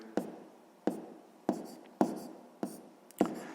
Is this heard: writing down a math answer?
yes